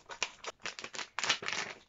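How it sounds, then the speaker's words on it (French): Scissors snip through plastic packaging around a face mask, giving a quick run of crisp close snips and crinkles in irregular bursts, fairly quiet with no talk. "il n'y a pas d'ouverture facile, donc je vais prendre mes ciseaux."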